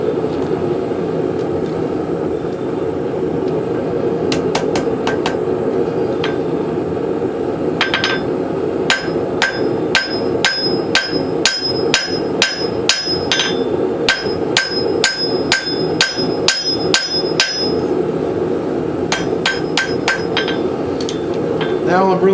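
A blacksmith's hammer strikes hot steel on an anvil while forging a woodcraft tool, planishing the face with the flat die side; loud, steady ringing blows in quick regular runs with short pauses, close up.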